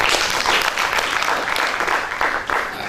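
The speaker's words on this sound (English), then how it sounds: "Let us give them a very loud hand clap." Dense, steady applause from a crowd at a national science competition, sustained throughout with a continuous wash of clapping hands and no pauses.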